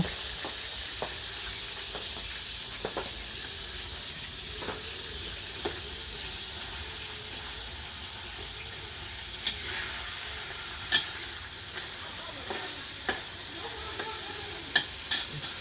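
Pork sizzles and fries steadily in a pan while being stirred, with a continuous hiss and scattered sharp clinks and scrapes of the utensil, growing busier toward the end; no talking.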